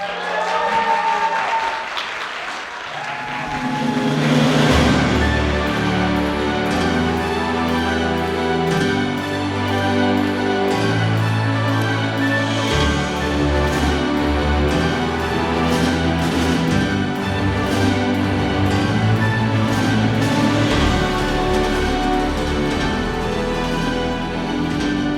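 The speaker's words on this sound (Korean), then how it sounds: "박수 부탁드립니다." Audience at a bad-movie film festival gives a guest a loud, sustained round of applause, swelling after a few seconds and continuing steadily for about twenty seconds.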